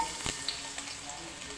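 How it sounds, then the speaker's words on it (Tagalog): Garlic, onion and tomato sautéing in cooking oil, a soft steady sizzle with faint stirring scrapes, close and low in level. "Gigisa natin yung bawang, saka sibuyas, saka kamatis."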